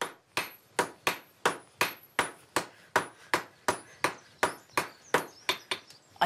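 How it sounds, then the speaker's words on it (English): Blacksmiths hammer iron flat to shape a stirrup, the hammer ringing out in about sixteen sharp, evenly spaced metallic strikes, each with a short ringing decay, close and loud with no talk. "Peter and Martin will hammer the iron flat and then bend it at 4 corners, making a stirrup shape."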